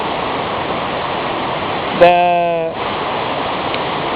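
Steady broadband rush of great waterfalls in Mirusha Canyon, loud and continuous throughout, briefly overlaid by a short spoken word near the middle.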